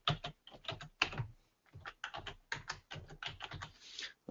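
A password is typed on a computer keyboard, a quick run of close, crisp key clicks in uneven bursts with short pauses and no talking.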